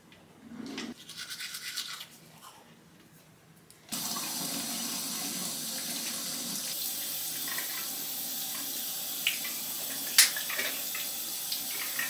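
A bathroom sink tap is turned on partway through and then runs steadily while someone rinses their face. The flow is close and continuous, with a few brief splashes near the end.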